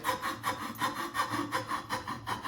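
A carving blade working the wood of a mallard drake decoy head during rough carving, close rhythmic scraping strokes repeating about every quarter second, alone with no talk.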